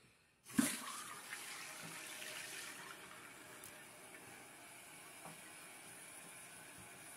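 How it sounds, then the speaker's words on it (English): Water suddenly rushes on with a sharp burst into a toilet's water supply line, then settles into a steady, faint hissing flow through the pipe that continues without pause. "turn your water on, Mason."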